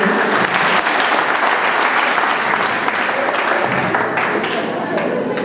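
Loud, dense applause from a college class audience fills the whole stretch, steady clapping with some voices mixed in underneath.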